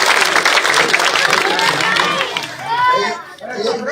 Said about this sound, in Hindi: एक बार जोरदार तालियों के